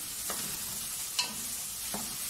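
Chicken browning in a pan while being stirred for a baked chicken pasta, a steady close sizzle broken by three sharp scraping stirs, with no talking.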